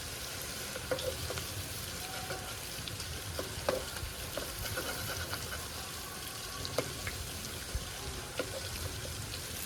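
Chicken pakoras fry in very hot oil, a continuous bubbling sizzle at close range with occasional soft clicks and taps, fairly quiet and steady throughout.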